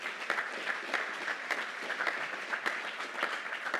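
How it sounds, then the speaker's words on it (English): At a U.S. Army Corps of Engineers relinquishment of command ceremony, a crowd applauds steadily and evenly, a continuous wash of many hands with a few sharper claps standing out. "That was just a big round of applause to Chaplain Redgen"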